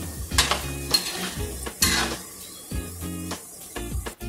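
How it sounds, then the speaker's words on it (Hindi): Maggi-and-bread pakoras frying in oil over medium-low heat, with close bursts of spatula stirring, scraping and pan clatter over a soft sizzle, no talk. "गैस को हमें मीडियम पर रखना है, नहीं तो ब्रेड है जल सकता है, इसलिए धीमी आंच पर इसे तलें।"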